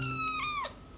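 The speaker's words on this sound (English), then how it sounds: "we have a cat now." A kitten gives a single drawn-out meow indoors, close and clear, with the pitch sliding down at the end.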